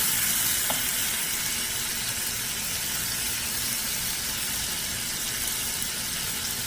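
Garlic sizzling in butter in a preheated skillet while making garlic butter sauce for a seafood boil; a steady, close, continuous frying hiss with no talk over it.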